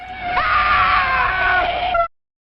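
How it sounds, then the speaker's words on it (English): A shrill, wavering scream from the film Plan 9 from Outer Space, loud and close, holding for about two seconds on a strained pitch before cutting off abruptly into silence. "you hear this scream and this screech of Reva"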